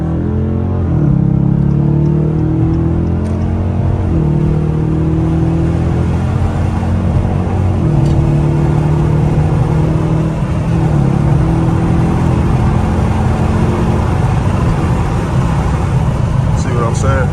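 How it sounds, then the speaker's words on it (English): A 2023 Dodge Challenger R/T Shaker with its V8 engine pulling under acceleration, a loud, steady low rumble with rising and shifting engine tones, heard from inside the car under people talking. "that obviously is the smallest V8 engine that you can purchase from Dodge, it still gives you that kick"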